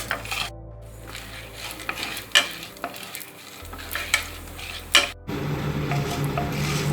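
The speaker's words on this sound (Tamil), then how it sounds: "சூடானதும் எடுத்து வச்சுருக்கிற கடலைப்பருப்பையும் உளுத்தம்பருப்பையும் சேர்த்து வறுத்துக்கலாம்." Chana dal and urad dal roasting in sesame oil on low heat, a soft sizzle broken by irregular spatula scrapes and taps against the pan, close and clear with no talking.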